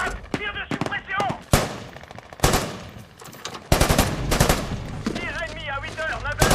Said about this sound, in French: Tir de suppression.